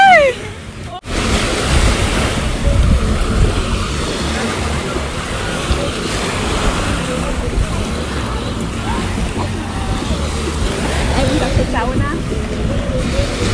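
Boat ride on the sea off a beach, engine rumble and wind buffeting the microphone with waves washing against the hull, loud and continuous, with voices talking over it.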